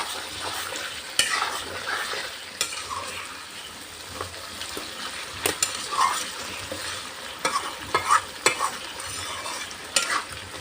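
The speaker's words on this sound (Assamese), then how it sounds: "গৰম পানী অকণমান দি আকৌ ভাজিম" Steady sizzling of duck meat and potatoes frying with a little hot water added, repeated scraping and stirring strokes in a pan, close up, no voices.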